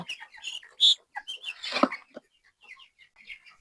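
Nineteen-day-old chickens on a poultry farm make a few quiet, scattered clucks and short chirps, with soft movement in between.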